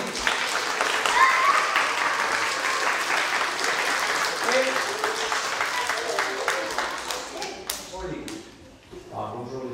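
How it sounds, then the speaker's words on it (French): A class of young children at a nursery school applauds a visiting former gymnast, with dense, lively clapping that gradually thins into scattered claps and voices near the end. "On applaudit M. Dimitri Karbanenko."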